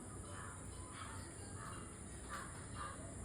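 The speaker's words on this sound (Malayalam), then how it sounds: "ഈ കാക്ക വന്നു കണ്ടോ" A crow caws a few times at a distance, faint against steady outdoor background noise and a constant high hiss.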